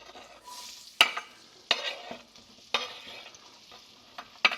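Onions fry in a pan with a soft, steady sizzle, broken every second or so by sharp clacks of a spoon stirring against the pan, close up and without talk.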